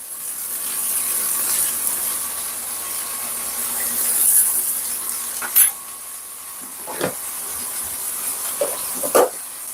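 Butter sizzles in a hot pan with sirloin steak, a soft continuous frying hiss with a few sharp clinks and scrapes of utensils against the pan, close and without talk.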